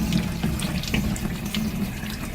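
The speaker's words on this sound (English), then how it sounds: "Canvas is in the tub, and we're applying water" Running water from a tap splashing onto a canvas lying in a tub, a steady close hiss and patter with small irregular splashes, no voices.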